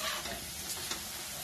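Potatoes frying in hot oil for sabudana khichdi, a dense, even, close sizzle that holds steady, with faint ticks from stirring.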